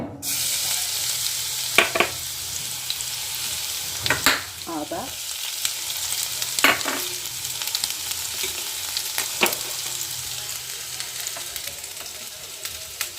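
Hot oil sizzles in a kadai as spices are fried for fish chops, a constant crackle broken by a few sharp clacks from stirring, close by and with no talking.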